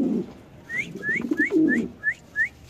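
Pigeons at a bird market coo in a short series of soft, rising calls, six in quick succession, with low murmuring underneath and no voices.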